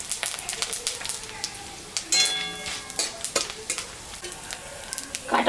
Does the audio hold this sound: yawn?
no